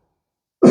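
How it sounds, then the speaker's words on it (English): A patient with COPD and a suspected chest infection gives one short, loud cough at the very end, close by, after near-total silence. "Now he's coughing."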